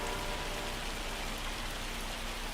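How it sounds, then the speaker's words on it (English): Hail and rain pour down in Farming Simulator 25 as a steady, dense hiss that stays loud and unbroken throughout, with no talking. "I just realized this hail is loud as crap"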